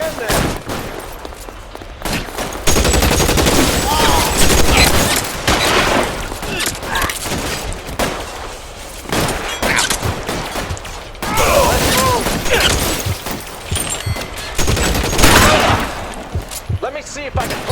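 Gunfire in an L.A. Noire police shootout comes in bursts of rapid shots with sharp cracks and mechanical clicks, some pauses between volleys, and voices speaking over parts of it.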